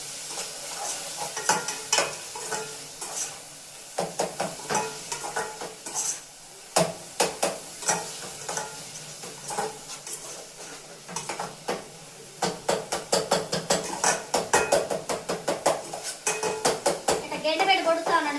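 Tomatoes for gravy being mashed in a pot with a masher, as an egg biryani is cooked. A quick, rhythmic series of close knocks and scrapes against the pot sounds over a faint sizzle, with the beats growing denser and louder toward the end.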